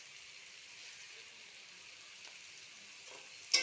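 Taro (kochu) frying in a pan gives a faint, steady sizzling hiss that stays soft and even, then ends with one sharp clink; no one talks.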